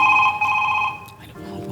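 A telephone rings during a Marathi comedy sketch, sounding a bright electronic ringtone that fades after about a second, with voices and rustling following.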